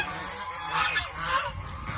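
Domestic geese honk loudly and close by during their mating season, with overlapping nasal calls rising and falling over two seconds and no talk.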